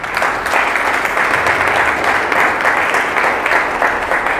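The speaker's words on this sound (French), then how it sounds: "Acclame pour le Seigneur." A church congregation claps together for the Lord in steady, dense applause, loud and close throughout with no break.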